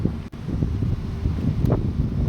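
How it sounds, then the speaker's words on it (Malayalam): Steady, loud wind roars and buffets the microphone throughout at a landslide area, a continuous low rumble with gusty fluctuations and no voices. "അപ്പോൾ കാറ്റ് ഭയങ്കര കാറ്റാണ് കേട്ടോ"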